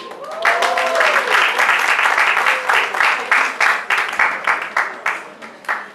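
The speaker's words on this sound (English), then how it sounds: "So let's give a round of applause to Ms. Monica Kangi." A crowd applauds warmly, steady clapping that thins into scattered individual claps toward the end, with a brief voice at the start.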